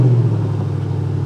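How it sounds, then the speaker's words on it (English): A Porsche Panamera GTS V8 with its sport exhaust switched on rumbles at a steady, deep idle after starting, loud and close, with no voices over it. "Ooh, lovely V8 rumble."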